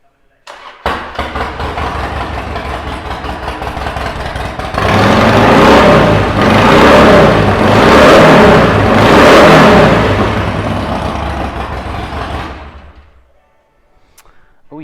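A 2008 Harley Davidson Sportster XL1200L Low motorcycle with 1,886 miles cranks and fires up, then revs loudly in several deep swelling pulses before settling and cutting off near the end.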